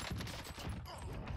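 Rapid bursts from an AMX submachine gun in a Call of Duty-style shooter on Rebirth, close, punchy shots in quick rhythmic volleys filling the short stretch, with no talk.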